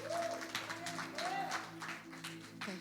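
A church congregation applauds during a family service, several bursts of clapping mixed with an organ or keyboard chord and voices, heard quietly at a distance.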